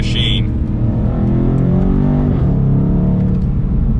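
A 2022 BMW M850i xDrive Gran Coupe driving, its engine giving a steady loud cabin drone that climbs in pitch under acceleration, then briefly dips and rises again.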